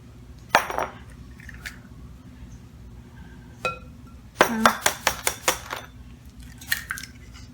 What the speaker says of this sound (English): I am going to crack the egg into a little ramekin and make sure I don't get any eggshell in here this time